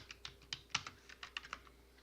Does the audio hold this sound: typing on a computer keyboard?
yes